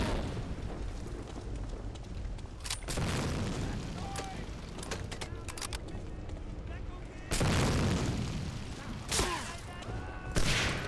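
Medal of Honor: Allied Assault game combat: repeated booming blasts and rattling gunfire over a constant rumble, loud and close, while a player talks through it.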